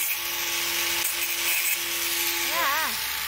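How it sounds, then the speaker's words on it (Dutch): A saw cuts a metal rack to size to fit around a koi pond, making a steady rasping drone with a wavering tone near the end, and voices talk faintly underneath. "Hij is het rekje op maat aan het zagen."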